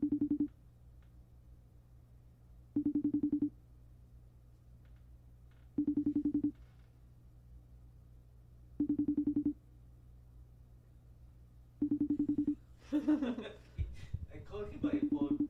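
A telephone ring or dial tone sounds in five evenly spaced bursts, moderately loud and alone, before a short burst of chuckling and voices near the end during a livestream.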